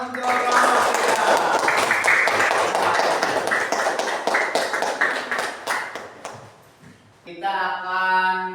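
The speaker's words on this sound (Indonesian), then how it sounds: "Kasih tepuk tangan untuk kelompok 3." A classroom group claps for group 3 in dense, steady applause that builds, then thins and fades out, after which a voice begins speaking.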